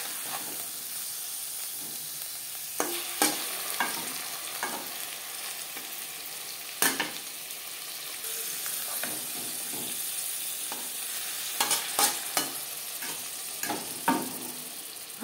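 Fish paturi, Bengali fish parcels wrapped in leaves, sizzles steadily in a frying pan, with a few sharper scrapes and taps as the parcels are carefully flipped, close and fairly loud with no talking.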